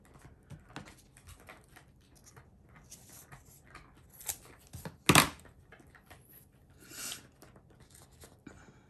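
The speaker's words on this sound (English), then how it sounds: "Cut it in half." Paper is cut in half with scissors at close range, a few quiet snips and rustles, one sharper crisp cut standing out midway through an otherwise quiet stretch.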